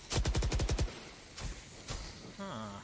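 A rapid burst of about seven gunshots in a competitive esports match, loud and close, followed by two more isolated shots spaced apart and a brief electronic game sound at the end.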